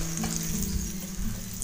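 Hot oil tempering with spices poured over a dish sizzles loudly and steadily, a close, continuous frying hiss with no talk.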